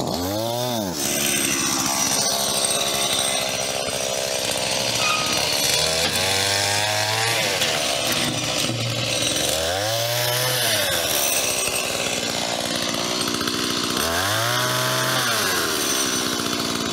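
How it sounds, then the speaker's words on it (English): A chainsaw cutting into wood, its engine revving up and down in repeated cycles of bogging and rising pitch, loud and close, with no talking. "I think this one's gonna need the chainsaw."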